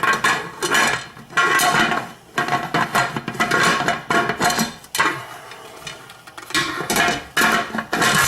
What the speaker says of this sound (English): it's time to put the lid on, get my little bobber going